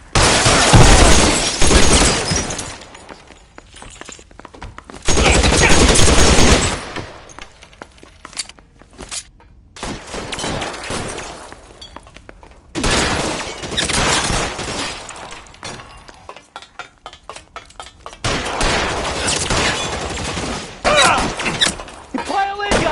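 A shootout in L.A. Noire: loud bursts of gunfire with shattering impacts come in several heavy clusters, separated by quieter gaps, and shouting voices break in now and then.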